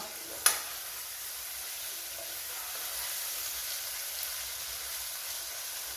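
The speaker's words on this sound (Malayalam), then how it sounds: "അപ്പോൾ തക്കാളി ഇട്ട് കൊടുക്കുക മല്ലിച്ചപ്പ് ഇട്ട് കൊടുക്കണം ഇനി ഇത് നല്ലോണം ഒന്ന് വഴന്ന് വരണം" Tomatoes and coriander fry in a pan with a steady, even sizzle and hiss that runs the whole time, marked by one brief clink near the start, close and moderately loud.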